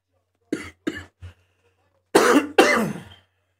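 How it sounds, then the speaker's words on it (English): A person coughs in the middle of a live basketball broadcast. Three short, sharp coughs come first, then a pause, then two heavier, longer, rasping coughs close to the microphone. "All I've been doing is coughing all night."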